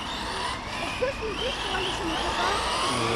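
An RC car, number 24, runs on an outdoor track, its small electric motor whining steadily with rising and falling pitch as it speeds around, loud and continuous under a constant background wash, with voices chatting nearby.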